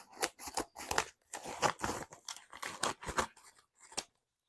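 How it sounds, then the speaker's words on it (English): Scissors snip through a package's wrapping in a run of quick, crisp, close cuts with short pauses between, some crunching and tearing mixed in, then stopping. "I got the scissors. So we're going to open this up."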